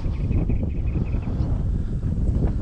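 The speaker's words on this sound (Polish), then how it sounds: "Zobaczcie, jaki wiatr przychodzi dzisiaj" Strong wind buffets the microphone on a floating pier at a lake harbour, a steady loud rumbling roar that holds throughout without a pause.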